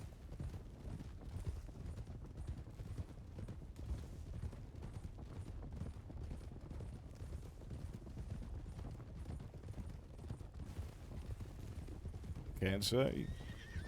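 In a Red Dead Redemption 2 roleplay game, a horse whinnies loudly near the end, over a steady rumble of hoofbeats and background noise, with a voice talking throughout.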